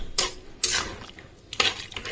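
Fried cauliflower florets going into a pan of boiling curd-based gravy and stirred, heard as three sharp metal-on-pan clanks and scrapes spaced apart, close and fairly loud.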